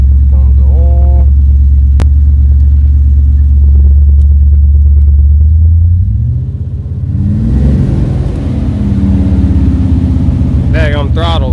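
A 1986 Chevrolet Suburban dually truck engine with a sticking throttle idles loud and close with a deep steady rumble, then rises in pitch as it revs and settles at a higher drone, with voices heard over it.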